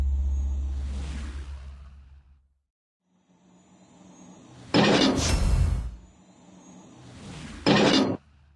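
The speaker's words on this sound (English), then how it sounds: "Engine boost activated." Ship engine boost in the naval game World of Warships Blitz: a low rumble fades to silence, then two loud whooshing surges of engine power rise sharply and cut off, with no voices.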